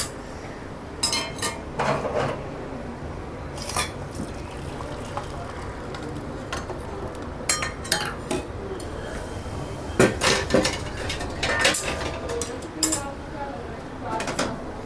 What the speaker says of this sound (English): We can remove this from the stove.